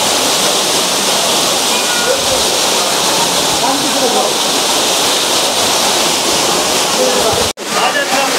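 Jana waterfall near Kasol and Manali in the Kullu valley, a loud, steady broadband roar of falling water heard close up, with a brief dropout near the end.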